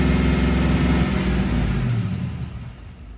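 Car engine revving loudly close by during a misfire diagnosis, a sustained rough roar that slowly fades and settles toward idle.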